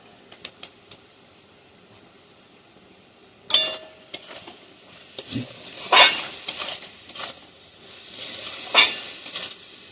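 Cardamom pods and a bay leaf are stirred in a pot with scattered utensil scrapes, clinks and faint sizzling, and quiet stretches between the strokes.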